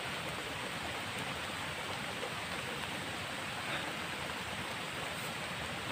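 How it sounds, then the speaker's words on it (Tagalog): Strong floodwater rushes down from the mountain after heavy rain, a steady, dense roar of flowing water with no pauses, close and loud. "Ang lakas ng agos."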